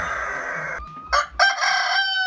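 A Kokok Balenggek rooster from West Sumatra crows loudly and close by, a long harmonic call broken into several drawn-out segments, with no talking.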